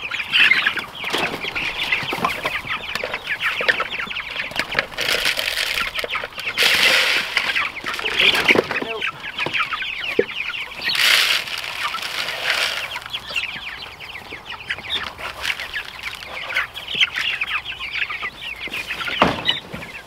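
Several birds cluck and call from close by, with occasional wing flaps and rustling, and no talking.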